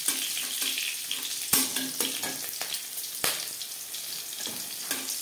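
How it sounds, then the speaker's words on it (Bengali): Cumin seeds and slit green chillies frying in refined oil, a bright crackling sizzle with sharp pops and stirring scrapes throughout, close and continuous. "5 সেকেন্ড জিরে ভেজে নেওয়ার পর দিয়ে দেবো চেরা কাঁচা লঙ্কা।"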